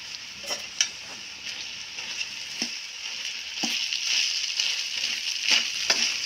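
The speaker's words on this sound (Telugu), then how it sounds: "ఇప్పుడు అన్నం వేసుకొని కలుపుకుందామండి" Cooked rice being mixed and stirred with fried okra in a pan for Andhra-style okra rice, a steady sizzle with scattered scrapes and clicks of a spoon against the pan, close and alone.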